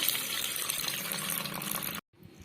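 Water pours steadily into a pressure cooker holding toor dal for spinach kadayal, a close, continuous splashing stream that cuts off abruptly, followed by faint trickling.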